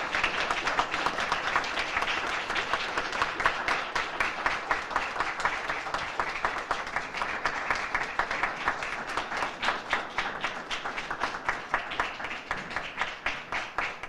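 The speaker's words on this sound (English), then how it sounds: "The applause is for him." An audience at a tribute event for a writer gives long, sustained applause, a dense roomful of clapping that keeps going at an even level for over ten seconds with no talk on top.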